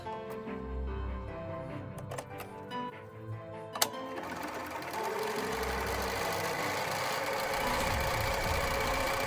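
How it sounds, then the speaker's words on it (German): Domestic sewing machine topstitching along the top edge of a fabric pouch, a steady close mechanical whir with ticking stitch rhythm that builds after a few brief starts and stops. "dann steppt ihr oben die Kante noch einmal ab"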